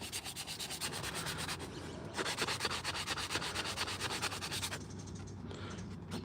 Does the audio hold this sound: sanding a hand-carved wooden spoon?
yes